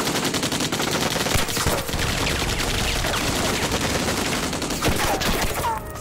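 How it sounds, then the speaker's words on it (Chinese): Warning shots from rifles and machine guns in a Sino-Japanese war film battle, loud, dense rapid bursts of gunfire rattling continuously for several seconds with sharper cracks scattered throughout. "这是警告弹，别开枪！"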